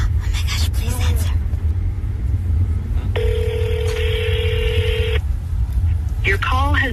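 An unanswered phone call rings out on the line, a repeated electronic ring tone heard once in a long steady burst, with people talking around it over a low constant rumble.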